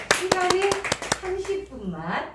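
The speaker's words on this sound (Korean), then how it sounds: "큰 박수로 부탁드리겠습니다." Audience clapping for a presenter at a peace-city forum in Incheon, a handful of sharp claps heard under and between a voice speaking through a microphone.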